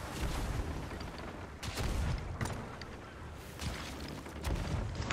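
Gunfire in the Sea of Thieves video game crackles in repeated distant bursts and booms over a rushing background of wind and waves.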